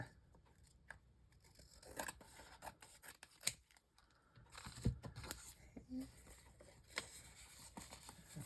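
Scissors trim paper for an envelope journal in short, faint, irregular snips and rustles, with quiet handling noises between the cuts and soft, low talk now and then.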